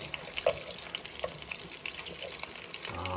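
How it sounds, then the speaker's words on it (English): Soft, steady sizzling of meatballs frying in a pan, with occasional pops and a light scrape near the end. "We're going to finish frying this and we'll be back."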